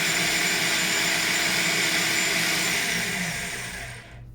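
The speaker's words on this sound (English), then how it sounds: "We will pulse it to mix everything together." A food processor pulsing dry unsweetened coconut and dry biscuit ingredients: a loud, steady high-pitched motor whir with rattling contents running continuously, then spinning down and fading at the end.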